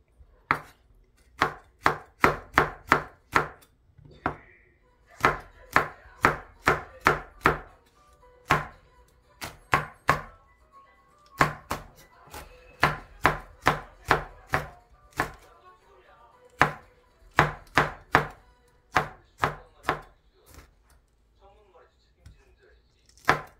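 Cheongyang chili peppers are chopped with a knife on a wooden cutting board in quick bursts of sharp, close taps separated by short pauses, loud and distinct over a quiet background.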